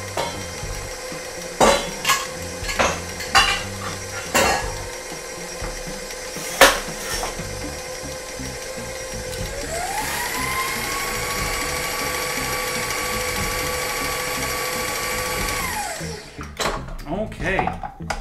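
A stand mixer beating gluten-free sour cream donut batter: a few clicks and knocks of scraping the bowl, then the motor whirs up and hums steadily for about six seconds before winding down, followed by more clatter.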